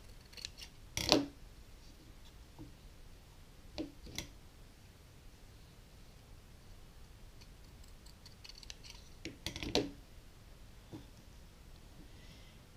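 Scissors cutting paper for a homemade Halloween decoration: a few crisp, close snips with quiet pauses between them in an otherwise hushed room.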